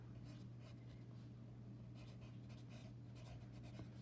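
Pen or pencil scratches on paper while an octagon label is written during a polygons lesson, quiet repeated strokes in short bursts over a low steady hum.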